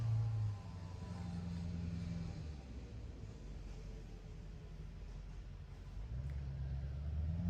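Loud traffic rumbles outside as a motorbike and trucks go by, a steady low roar that swells heavily at the start and again near the end, with no talking.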